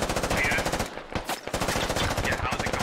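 Sustained automatic gunfire from a firefight in the video game Squad, with rapid bursts rattling densely and loudly, a brief lull near the middle before heavy shooting resumes.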